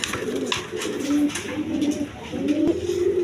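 Pigeons at a pigeon farm coo close by in repeated low, throaty rolling calls, several birds overlapping in a steady rhythm.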